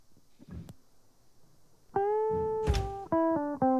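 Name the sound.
video game menu tone for bass path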